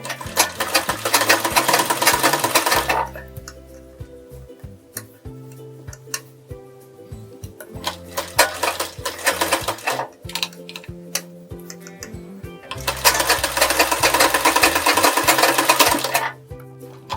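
A sewing machine stitches around the edge of a blouse sleeve in three loud, fast bursts, with quieter ticking and handling sounds of the machine between runs.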